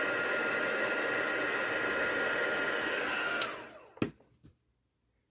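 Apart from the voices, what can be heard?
heat tool melting embossing powder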